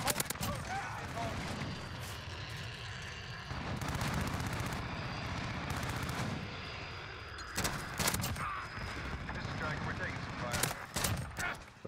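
Bursts of gunfire in the video game Modern Warfare, rapid cracking volleys scattered across the span at moderate loudness, heard under ongoing game noise and background sound with some talk mixed in.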